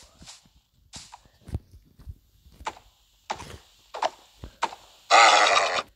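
A Minecraft horse clops along in short, sharp hoof taps, spaced a little unevenly, then gives a loud, buzzy whinny at the end. The game sounds are crisp and close, with no talk over them.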